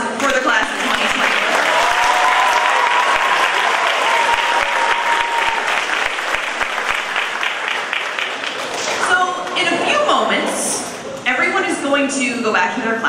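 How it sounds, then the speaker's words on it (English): A school assembly audience applauds the graduating class of 2020, loud sustained clapping that thins after about nine seconds as voices and cheers take over. "let's just have a big round of applause for the class of 2020."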